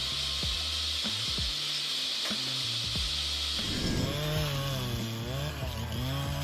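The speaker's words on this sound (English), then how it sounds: "Grabs the log, neatly cuts it to length, and places the finished pieces on the conveyor." An automated firewood processor with a high-speed toothed saw blade cuts logs to length, a steady loud mechanical drone with repeated sawing strokes and a rising, wavering whine as the blade works through the wood.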